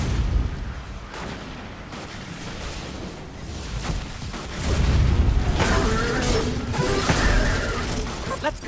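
Bombs and missiles explode in the video game Destiny 2, heavy booms and crashing blasts rolling over a steady rumble of gunfire, growing louder and busier toward the end with no voices.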